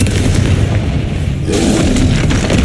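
Deep booming blast from the Confringo fire spell in the video game Hogwarts Legacy, loud and rumbling, followed by a second burst of crackling impact partway through amid dense battle noise.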